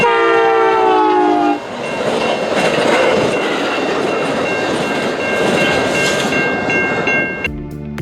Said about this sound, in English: Amtrak 392 at track speed of 80 miles per hour.